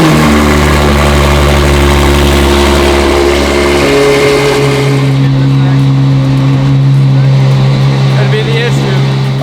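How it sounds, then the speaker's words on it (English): A Ferrari cold start settling into idle: a loud, close engine holds a high, steady rumble, then drops after a few seconds to a lower, even idle that continues to the end. "we might as well do a cold start since we're here."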